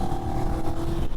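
A CFMOTO 650NK motorcycle engine revs on a bumpy road, a steady loud droning growl with a fairly constant pitch, close up and with no talk.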